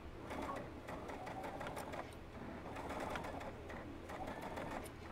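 A sewing machine stitches seams on a plush stuffed horse doll, its needle chattering in a steady, rapid rhythm close by and fairly quiet, running without pause.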